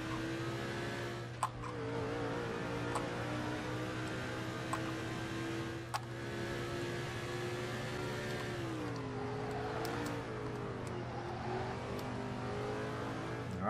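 Race car engine in the NASCAR 06 video game, driving the Eccentrics Financial Chevrolet, holding a steady high drone with slight pitch dips and rises, close and continuous with a few faint clicks, no talk.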